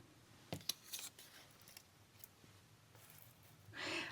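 Scissors cut paper for a junk journal, a few quiet close snips and rustles spaced apart, with soft paper handling between them in a quiet room.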